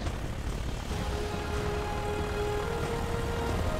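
A Curtiss SB2C-4 Helldiver in a flight video game drones with a steady, throaty propeller-engine roar during takeoff, the pitch rising slightly as the sound holds constant and close.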